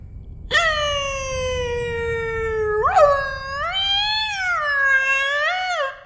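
A person's voice imitates whale song: long, wavering, high tonal moans that bend up and down, rising and falling in pitch over several seconds, heard alone above a low background hum.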